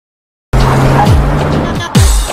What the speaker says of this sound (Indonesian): Mendengar itu, Eddie langsung tancap gas.